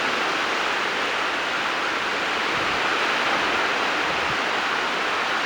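Moderate waves of the north Java sea wash onto the shore in a steady, broad roar of surf, constant and fairly close, with no voices.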